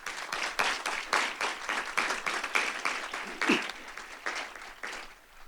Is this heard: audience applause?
yes